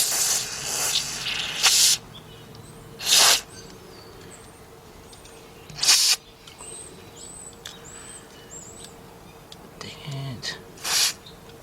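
Short bursts of aerosol cleaner sprayed during work on a Nissan RE0F11A transmission pressure control valve solenoid, three or four loud hissing blasts separated by quiet gaps, with faint chirps and a person talking briefly between them.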